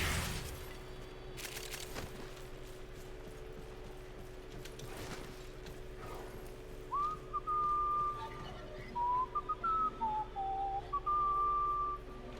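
A character whistles a short, wavering melodic tune in the Warframe game The Duviri Paradox. It rises clearly over faint background game sounds and soft mechanical clicks in the latter half.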